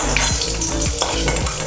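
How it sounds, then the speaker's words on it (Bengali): An egg stirred in hot oil in a pan sizzles loudly and steadily, with repeated scraping strokes of a utensil cutting through the frying noise at a regular rhythm. "ডিমটা আমি হালকা করে জাস্ট তেলে একটু নাড়িয়ে নিলাম, হালকা একটু ভাজা ভাজা"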